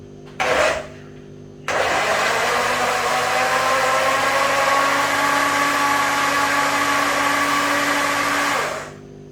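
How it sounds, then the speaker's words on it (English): A brief whir, then a steady loud motorized roar that runs for about seven seconds before cutting off, with no talking. "And now put it in the blender."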